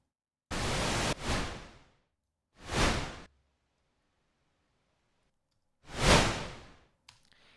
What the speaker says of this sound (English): So instead of test generator that gives you white noise, you can just use pink noise.